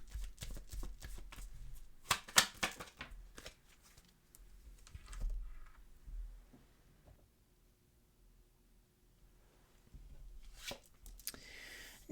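Tarot cards shuffled and drawn in a quiet room, with bursts of riffling and soft slaps of cards spaced out across the stretch and quiet gaps between them.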